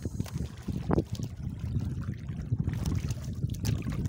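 Steady gusty wind buffeting the microphone at sea while fishing, with a constant low rumble and occasional splashy water sounds, loud and close throughout.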